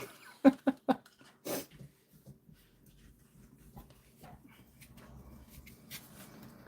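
A pet dog shifts about by its bed indoors, with a few sharp knocks and rustles at the start, then soft breathing and faint movement sounds, close and quiet.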